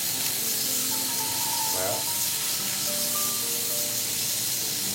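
Scallops searing in a hot frying pan give off a loud, continuous sizzle and spitting hiss throughout, with someone speaking French briefly over the frying.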